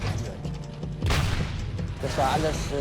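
Tank guns firing shells during a wartime battle in Tunisia, two heavy booming blasts about a second apart with rolling echoes under a rough mechanical rumble, no talk.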